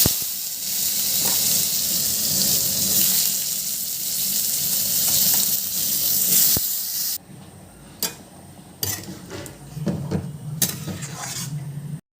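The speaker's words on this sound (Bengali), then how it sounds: "ফোড়নটা ভাজা হয়ে গেছে, শসাটা দিয়ে দিই।" Loud, steady sizzling of cucumber dropped into hot oil after a fried cumin tempering, with brief clatters and stirring toward the end as the hiss shifts and quiets slightly.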